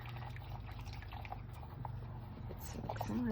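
Liquid Mix2Mold resin being stirred with glitter, giving soft wet dripping and sloshing sounds that stay steady and close under a low background hum, with a brief voice-like tone at the end.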